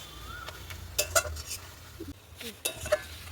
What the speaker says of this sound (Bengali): উপর থেকে আমি একটু ভাজা মশলাটা ছড়িয়ে দেবো দিয়ে আর একটু ভেজে নেব ভালো করে